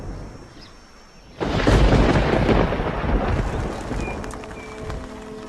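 After a quiet moment, a loud crack of thunder from an early-summer storm bursts in and rolls on as a long, rumbling storm roar that slowly fades.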